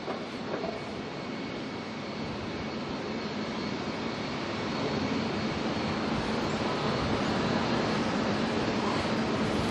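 ATR turboprop airliner departing Auckland Airport bound for Tauranga, a steady broadband engine roar at moderate distance that swells slightly louder in the second half, with no voices.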